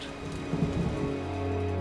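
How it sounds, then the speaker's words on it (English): Rain falls steadily on a small patch of desert ground, a dense continuous hiss of drops, moderately loud and unbroken, with a low rumble near the end. "rain returns life to this small patch of desert"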